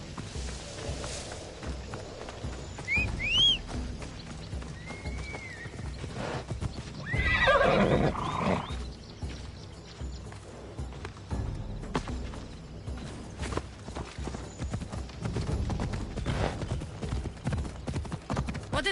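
Horse hooves clip-clop at a gallop in Assassin's Creed Odyssey, with a whinny and a snort over game ambience and a music bed, steady hoofbeats running throughout.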